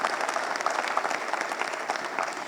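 Audience giving a round of applause at a university housing and real estate event, steady crowded clapping with distinct individual claps, moderately loud and continuous.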